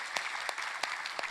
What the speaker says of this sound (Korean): 우리 하나님께 감사와 영광의 박수를 보여드리겠습니다